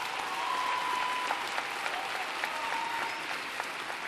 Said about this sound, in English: Will you all give them another round of applause?